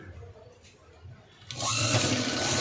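A sewing machine starts up partway through stitching a boat neck blouse, its motor buzzing loudly and steadily after a quieter stretch of faint handling noise.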